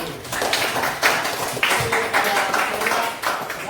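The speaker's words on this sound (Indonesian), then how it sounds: "Iya, tepuk tangan." Students in a classroom give a short burst of hand clapping, several uneven claps in quick succession, moderately loud and close, with faint voices underneath.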